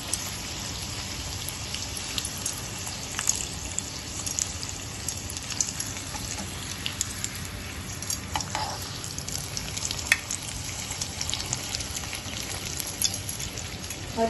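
Papad rolls fry in hot oil with a steady, dense crackle and fine popping that runs evenly throughout, close and moderately loud, with no voices.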